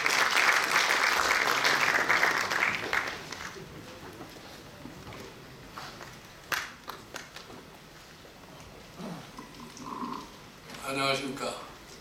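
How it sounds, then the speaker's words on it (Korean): Audience applause welcoming a speaker at a constitutional-reform debate forum, moderate clapping in the first few seconds that fades out, followed by quiet room noise, a few scattered thumps and a brief voice near the end. "큰 박수 부탁드립니다."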